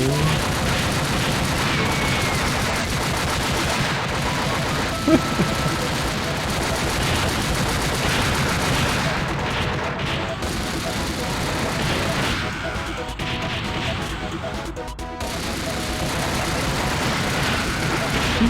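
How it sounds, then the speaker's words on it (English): Fireworks bursting in the video game Final Flames, a dense, continuous barrage of loud cracks and pops layered over constant game noise and music, with a few sharper hits standing out. "Oh damn, those are not cheap fireworks. They're pretty effective fireworks."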